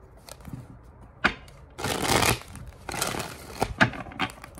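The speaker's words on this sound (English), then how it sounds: "Golly, I thought I shuffled this pretty good." A deck of tarot cards is shuffled by hand in several bursts of riffling and sliding, with sharp taps and flicks between them, close and fairly quiet with no talk.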